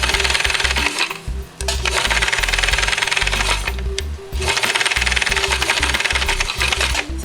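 Sewing machine stitching neoprene fabric, a loud, close, steady mechanical chatter of rapid needle strokes that pauses briefly twice before resuming.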